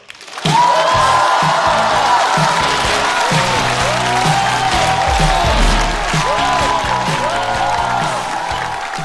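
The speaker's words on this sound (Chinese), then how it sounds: "掌声欢迎" A stand-up comedy show audience claps loudly and steadily to welcome a performer on stage, with scattered cheers and whoops mixed into the sustained applause.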